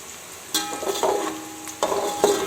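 Chopped medium-sized onion fries lightly in a pot for one-pot chicken rice, with soft sizzling broken by several bursts of stirring and utensil scrapes.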